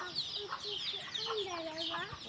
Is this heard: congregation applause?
no